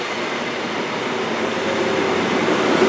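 A train rumbles steadily at Newton Abbot station, a continuous close wheel-and-carriage roar that slowly grows louder, with a faint squeal on the line.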